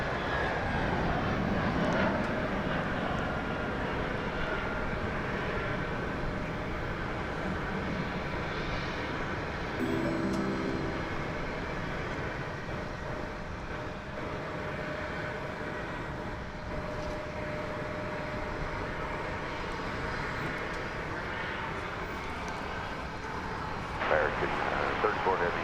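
An American Airlines Airbus A319 arrives at DFW Airport from Amarillo, Texas, its engines a steady, broad jet roar that holds evenly for the whole stretch.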